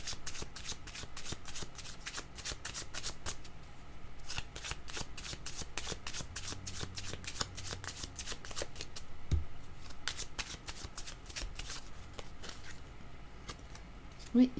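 Cards are shuffled for a card reading, a long run of rapid, crisp riffling flutters up close and nearly continuous, with a faint voice speaking in the background.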